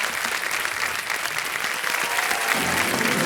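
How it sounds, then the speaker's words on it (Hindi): A studio audience on the Kaun Banega Crorepati quiz show set applauds continuously, a dense, even wash of many hands clapping that holds steady and close throughout. "तालियां बज जाए इनके लिए एक बार फिर।"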